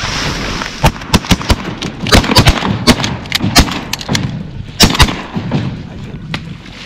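Shotgun blasts from a duck hunt in North Dakota ring out in a rapid series of about a dozen sharp, loud reports, some in quick pairs and clusters, over outdoor ambience with no talking.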